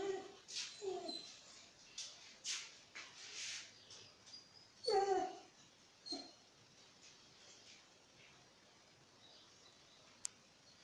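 A dog whines and whimpers in a backyard, with several short, soft cries in the first half and a louder burst around the middle. Between the cries the yard stays quiet, and there is a faint tick near the end.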